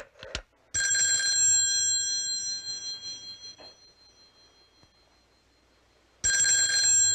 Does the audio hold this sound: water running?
no